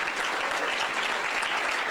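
Steady applause from an audience at a food startup showcase event, dense and continuous for the whole moment with no pauses.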